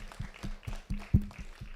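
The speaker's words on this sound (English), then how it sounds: "So please let's prepare our hands and just clap for ourselves" An audience at a 2022 university student council election claps for itself in a steady, fairly quick rhythm, with a low hum or murmur running beneath the claps.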